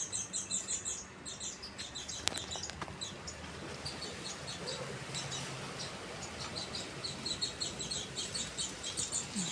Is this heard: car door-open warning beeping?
no